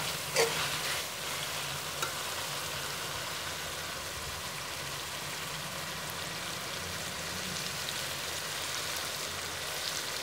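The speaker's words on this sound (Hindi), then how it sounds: "अब इसके 3 से 4 मिनट में इसकी भुनाई करूँगी।" Chicken roasting and frying in a pan for chicken kachnar, a continuous soft, even sizzle like light rain that holds steady throughout, with faint stirring and no voices.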